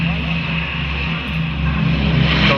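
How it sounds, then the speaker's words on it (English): An Avro Lancaster bomber taking off at an airshow, a loud, steady multi-engine propeller drone filling the whole stretch with a slight rise toward the end, and voices mixed in underneath. "And here goes the Lancaster with its precious load."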